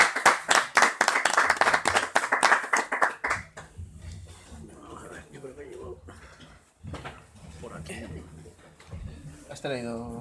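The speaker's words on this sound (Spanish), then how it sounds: "Fuerte aplauso para ellos." Listeners clap loudly at a book presentation in a Joker bookshop. The applause is sharp and distinct for about three seconds, then stops, and people begin talking with scattered rustling and handling noises.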